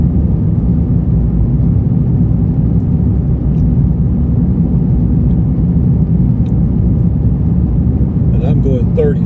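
A car drives along a curvy New Mexico road, its engine and road noise forming a loud, steady low rumble from inside the cabin, with a brief faint rattle near the end.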